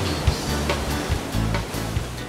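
Ocean surf rolls and breaks at Bells Beach in Australia, where waves reach up to 5 metres, as a steady broadband wash with soft repeated thumps of breaking water and no voices.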